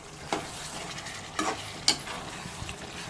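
Chicken dum biryani mixture with powdered fried onion is stirred in a pan, a soft frying hiss broken by three distinct scraping strokes of a spoon against the metal; no talking.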